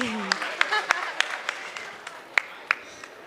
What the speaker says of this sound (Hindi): एक बार फिर से जोरदार तालियां अपने लिए और बड़े बच्चों के लिए भी।